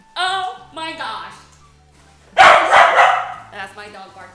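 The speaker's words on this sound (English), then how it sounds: "That's my dog barking." A pet dog named Evelyn barks in a few short bursts mixed among excited voices, with one loud, noisy burst in the middle of the clip; people talk and exclaim over and around the barking.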